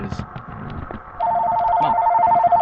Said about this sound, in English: Phone call, yay.